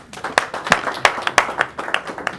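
A church congregation applauds for Christ after a sermon. The claps are sparse and distinct, landing in an uneven rhythm rather than a full roar.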